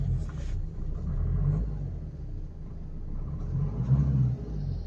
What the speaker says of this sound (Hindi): हमने एक्सीलेटर पैडल प्रेस किया